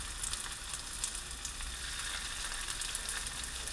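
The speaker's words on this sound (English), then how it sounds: "So then I'll just start putting my meatballs in." Meatballs for wedding soup fry in a hot pan, a constant crackling sizzle that is fairly loud and close with light popping throughout and no talking.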